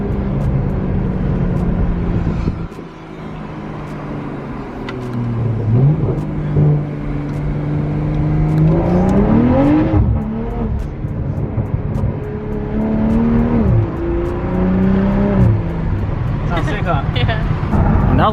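A BMW M340i on TE37 wheels spins its tires with traction control on, the engine revving loud and close with rising, falling pitch and a steady roar that surges repeatedly over about eighteen seconds.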